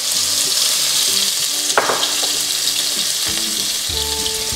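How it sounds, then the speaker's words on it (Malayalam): Small shallots frying in hot oil after mustard seeds, for a Pala-style pork fry, a steady loud sizzle with scattered pops and light stirring, no voices. "കടുക് പൊട്ടിത്തരങ്ങി നമുക്ക് ഇതിനകത്തോട്ട് ഉള്ളി ഇട്ട് കൊടുക്കാം."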